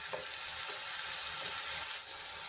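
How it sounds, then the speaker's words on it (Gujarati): Chopped onions sautéing in hot oil until golden brown, a steady close sizzle and crackle with faint stirring scrapes and no talking. "ગોલ્ડન બ્રાઉન થાય ત્યાં સુધી આપણે એને સાંતળી લેવાની છે ડુંગળીને આપણે સરસ રીતે સાંતળી લઈશું"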